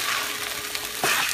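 Seafood rice sizzling in a small frying pan as it is stirred, a brief bright frying hiss with a louder scrape and crackle near the end.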